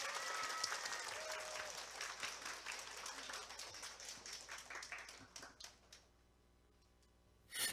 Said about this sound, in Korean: 자, 우리 학생들에게 큰 박수 한번 부탁드립니다.